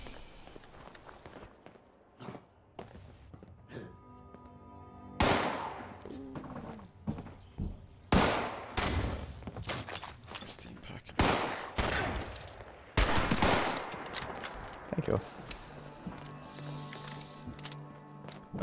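Shotgun blasts in a video game fight: several loud, sharp bursts scattered through a busy mix of footsteps and other game noise, with bursts clustered near the middle and late in the stretch.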